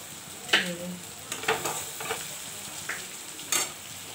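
Meat is transferred into a pressure cooker, making a faint background sizzle broken by several sharp clinks and scrapes of a spoon against the metal pot.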